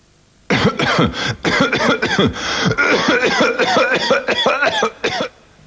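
A person coughs repeatedly in a long, harsh fit, loud and close, with brief pauses before it trails off.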